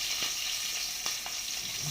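Ginger, garlic and shallots sauté in a hot pan with a steady, close sizzle, broken by a few soft stirring scrapes, with no voices.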